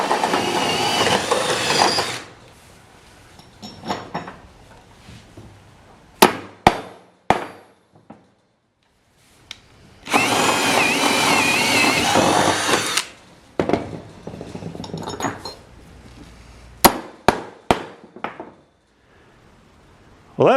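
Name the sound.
drill installing D-rings on trailer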